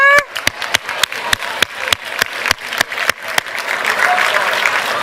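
An audience at a customer advocacy workshop applauds a speaker, with sharp, evenly spaced claps standing out over a denser, steady ripple of clapping that carries on throughout.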